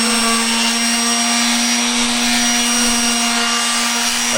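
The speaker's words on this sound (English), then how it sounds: "And then I just hit it with a palm sander." A palm sander runs on a glued wooden piece, giving a loud, constant close-up whine with a steady tonal hum and no pauses or talking.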